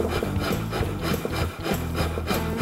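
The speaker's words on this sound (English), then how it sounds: "The half-round side of a Nicholson No. 50 rasp works perfect for this job." Half-round side of a Nicholson No. 50 rasp filing an ebony grip cap on a wooden rifle stock, close rhythmic rasping strokes in quick succession with no talking.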